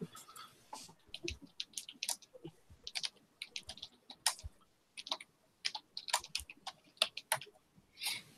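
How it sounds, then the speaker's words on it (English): Irregular bursts of computer keyboard typing, crisp clicking keystrokes in quick clusters with short pauses, close and fairly quiet. "Listen to him pecking away on that keyboard."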